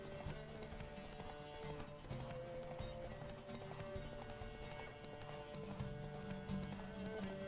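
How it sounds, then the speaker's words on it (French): Horses gallop in a race in the video game The Witcher, rhythmic clip-clop hoofbeats with occasional whinnies, steady over a faint background score, fairly quiet overall. "On fait la course de cheval."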